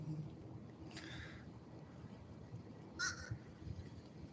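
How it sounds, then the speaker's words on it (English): Several crows caw overhead in two short bursts near one second and three seconds, over a steady low rumble of wind and water. "You'll hear the crows over top of me for a while now."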